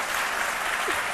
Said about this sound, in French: on applaudit très fort notre champion